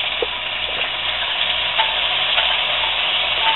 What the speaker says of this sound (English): while the skillet's good and hot, I'm going to add my onions and peppers